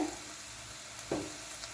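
Curry leaves and turmeric sizzling in hot oil for potato sambar, a soft, steady frying hiss close by with a brief louder crackle near the end, no voices.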